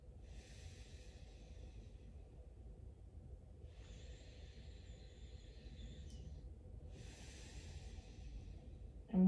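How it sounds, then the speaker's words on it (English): Slow, deliberate nasal breathing during a guided Taoist meditation: three long, soft, airy breaths alternate in and out, close to the mic, with no talking and a brief thump at the very end. "take 6 slow counts through the nose and then 6 slow counts out through the nose."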